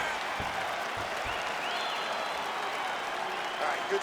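A roaring arena crowd in the EA Sports UFC 5 fighting game applauds at the end of a round of a Makhachev vs Khabib bout. The cheering is steady and fairly loud throughout, with voices talking over it.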